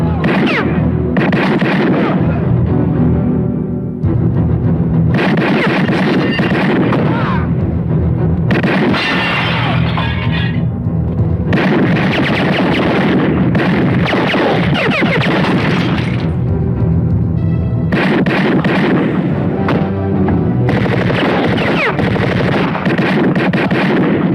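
Loud, dense bursts of gunfire from a Filipino action film gunfight, in clusters with brief lulls between volleys, sounding close and continuous for most of the stretch.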